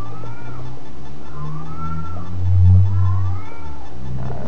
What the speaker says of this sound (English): Where are you, kitty cat?